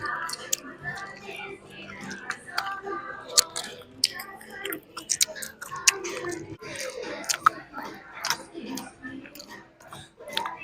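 Butter mochi is chewed close to the mic, with soft sticky bites and squishy mastication clicks arriving irregularly over several seconds and faint murmured talk in the background.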